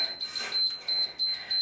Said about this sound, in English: It's gonna beep one more time,